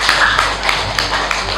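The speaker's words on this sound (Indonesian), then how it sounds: "Tepuk tangan." Audience clapping at an indoor face-to-face community meeting, a short burst of close, crisp claps with some tapping, fairly loud and without talk.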